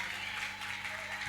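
A church congregation at an evening Christian seminar applauds for the choir, steady faint clapping heard from a distance with a low hum underneath.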